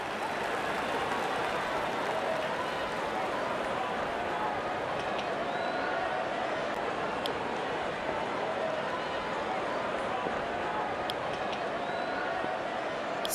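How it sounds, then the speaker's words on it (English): Steady, dense crowd roar of cheering and applause fills a simulated India vs Pakistan match in the Real Cricket video game, holding constant and loud throughout with no breaks. "there comes the celebration, and the crowd loves it."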